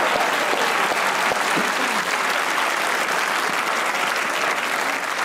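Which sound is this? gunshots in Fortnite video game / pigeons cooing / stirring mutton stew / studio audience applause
studio audience applause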